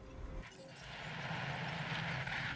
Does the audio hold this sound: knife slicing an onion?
no